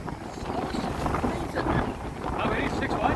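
Strong wind gusts buffet the microphone at a lake shore during a high-wind storm with big waves, a loud rushing roar that swells and eases, with a person speaking over it.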